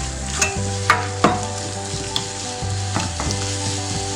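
Ground coriander and turmeric powder dry-roasting in a hot pan for Kerala-style tomato rasam, giving a steady close sizzle with a few sharp scraping stirs. No one speaks.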